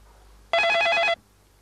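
A telephone rings once in a domestic scene from a Pakistani drama serial, a single short electronic trill lasting about half a second, clear and alone.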